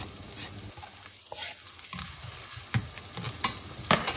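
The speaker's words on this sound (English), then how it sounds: "fry the onion and garlic" Onion and garlic fry in a pan with a steady, close hiss and sizzle, while a spatula stirs with scattered scrapes and taps that grow slightly louder toward the end.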